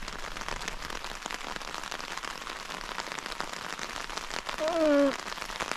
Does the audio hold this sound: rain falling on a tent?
yes